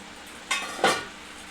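A lid goes onto a pot of egg curry as two quick, soft clatters close together, then the kitchen goes quiet.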